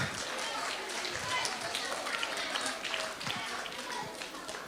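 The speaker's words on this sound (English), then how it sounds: "let's give grade 2 a round of applause" An audience at a school art and science fair applauds steadily, a dense wash of many hands clapping at once with voices murmuring through it.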